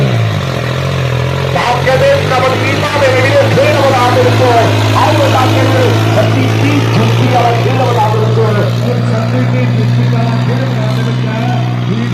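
Tractor engine rumbling steadily at a trolley-pulling competition, a loud low continuous drone under an announcer's amplified voice and crowd noise.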